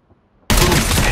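A gunshot bursts out loud and sudden in Call of Duty Mobile during a Search and Destroy match, cutting off near silence and ringing as a dense, sustained blast.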